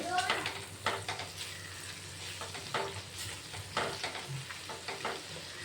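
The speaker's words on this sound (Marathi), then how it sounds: "जोपर्यंत चटणीला तेल सुटत नाही तोपर्यंत परतून घ्यायची" Tamarind chutney sautéed in oil in a pan gives a constant low sizzle, broken by repeated scraping strokes of a spoon stirring it, close and fairly quiet.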